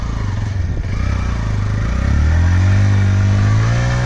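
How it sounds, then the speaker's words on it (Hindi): A TVS Raider 125 motorcycle labours off-road, its engine holding a loud, close, steady drone that rises and strains as it pushes through rough ground, with no talk over it. "तो यहाँ पे थोड़ा सा स्ट्रगल कर रही है बाइक"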